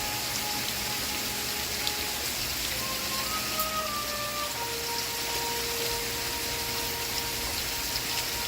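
Steady, even rain hisses without a break at moderate loudness, with a faint television show murmuring and playing soft music underneath.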